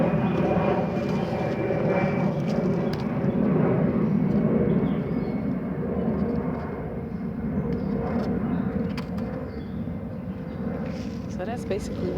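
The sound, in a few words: airplane flying over the city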